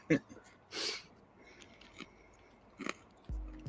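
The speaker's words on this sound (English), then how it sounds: "Is that loud crunching?" Close, loud crunching bites into pizza come in a few separate bursts at a late-night pizza party, separated by quieter gaps with faint voices nearby.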